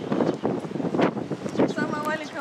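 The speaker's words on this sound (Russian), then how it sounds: "Ветер конкретный, холодный причем." Strong cold wind at Dwejra Bay on Gozo, Malta, buffeting the microphone in gusty rumbling blasts while people talk over it.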